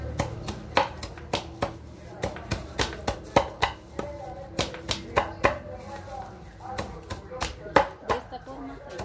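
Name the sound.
chopping and crushing organic material for worm compost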